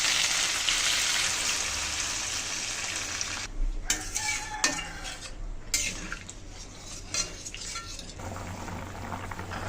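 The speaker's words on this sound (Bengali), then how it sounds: "এখন জল দিয়ে দিচ্ছি।" Oil sizzles steadily in a pan of spiced eel fish and potato curry, then the hiss breaks up and shifts as water is poured in, with brief utensil clinks before a softer, steady bubbling fry settles back in.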